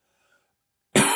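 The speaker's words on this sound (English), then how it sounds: "I'm just about to clear my throat here." A single short, loud throat clear close to the microphone bursts out after a near-silent stretch and carries to the end.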